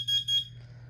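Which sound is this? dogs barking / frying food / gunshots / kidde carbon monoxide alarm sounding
kidde carbon monoxide alarm sounding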